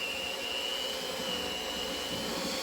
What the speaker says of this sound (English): This mixer really has a mind of its own.